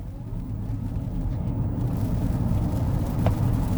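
A Lotus Eletre electric SUV accelerating hard on an open road, heard from inside as a steady low rumble and whir that builds slightly in strength, with no voices.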